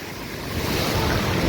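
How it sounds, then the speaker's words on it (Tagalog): Strong surging river current rushing down from upstream, carrying big rolling stones, a loud, steady broadband roar of churning water that swells slightly and holds close and continuous with no talk. "grabe yung bugso ng tubig dun sa taas"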